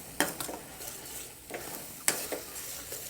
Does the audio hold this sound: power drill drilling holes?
no